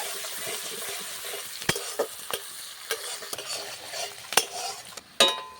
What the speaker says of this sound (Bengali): এরপর দেব পেঁয়াজ কুচি দিয়ে ভালো করে একটু ভেজে নেব